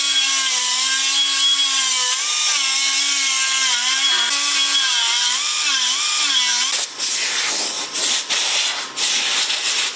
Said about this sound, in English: I am just tightening up the last of these bolts to mount this oil cooler in